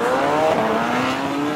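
A human voice imitates a car, making a loud, close, continuous engine drone whose pitch slides up and then down like a revving motor passing by.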